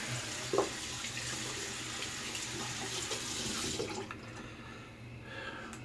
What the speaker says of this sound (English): Rinse the soap out and let that dry. Rinse the brush out.